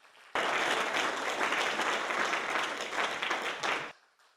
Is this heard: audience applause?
yes